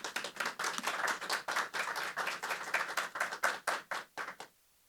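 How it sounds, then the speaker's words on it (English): An audience at a Hall of Fame induction class announcement gives a round of applause, distinct bursts of clapping in a quick irregular rhythm that stop abruptly near the end. "Let's give her a round of applause"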